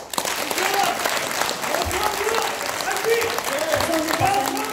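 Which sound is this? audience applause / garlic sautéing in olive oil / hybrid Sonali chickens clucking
audience applause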